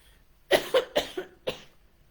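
Several sharp coughs from people at an online church service, four or five distinct bursts in quick succession, fairly close and clear against a quiet background.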